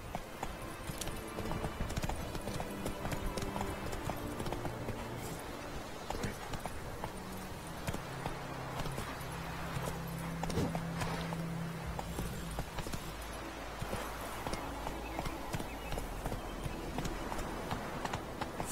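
Galloping hoofbeats from a horse in The Witcher 3 pound in a fast, continuous rhythm at moderate level beneath a low musical score, with no one speaking.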